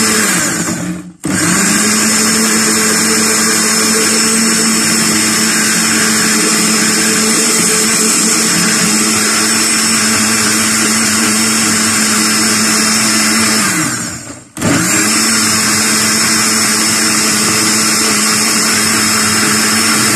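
A blender whirs loudly as it mixes a persimmon jelly mixture, a steady high motor drone that cuts off briefly twice and restarts, with no voices.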